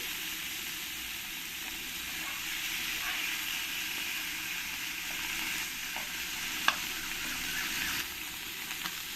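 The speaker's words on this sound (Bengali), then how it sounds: "এবার এই আলু ভাজা তেলের মধ্যে চিংড়িগুলো দিয়ে দেবো চিংড়ি মাছগুলোকে আমি একটু ভালো করে লাল লাল করে ভেজে নেবো" Prawns fry in hot oil left from frying potatoes in a kadai, a steady close sizzle and hiss throughout with occasional stirring clicks.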